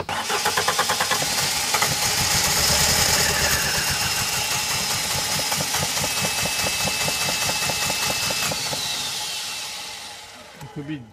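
Small gasoline engine sputtering and revving loudly after choke and gas pumping, a steady rattling run with rhythmic pulsing that cuts off near the end, with voices talking over it.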